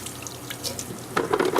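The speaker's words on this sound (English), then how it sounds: "So we're going to wash our hands." Tap water runs into a sink during handwashing, a close, steady splashing with drips that grows slightly louder near the end, with no voices.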